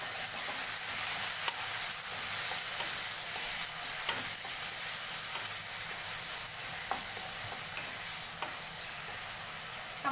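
Onion, asafoetida and tomato cooking in a pan for a jackfruit curry, giving a continuous close sizzle with scattered soft clicks and scrapes of stirring.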